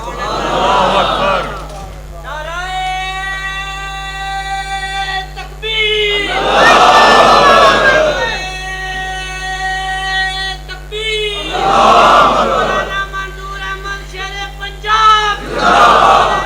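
A crowd at a religious rally in Sialkot chanting a long slogan in loud, voiced waves. Sustained calls alternate with surging group responses that swell and fade repeatedly.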